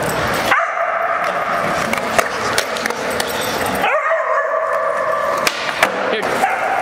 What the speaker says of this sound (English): Dog at the skate park!